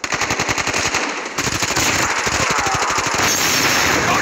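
Call of Duty multiplayer gunfire: rapid automatic bursts rattle in dense, rhythmic volleys, briefly pausing then resuming loud and close, with heavy shots layered over game ambience.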